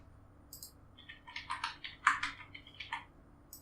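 Quick bursts of keystrokes on a computer keyboard, about a dozen close, crisp taps in an uneven rhythm, alone in a quiet room.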